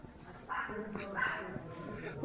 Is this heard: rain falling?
no